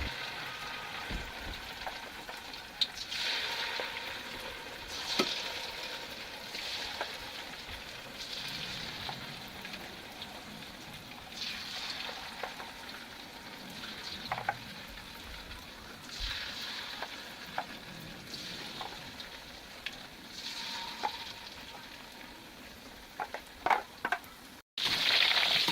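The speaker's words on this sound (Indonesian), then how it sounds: "masukkan aja semua pisangnya atau secukupnya, lalu kemudian kita goreng di minyak panas dengan api sedang" Bananas coated in batter fry in hot oil over medium heat, giving a steady, close crackling sizzle with scattered louder pops and spatters, heard alone without talk.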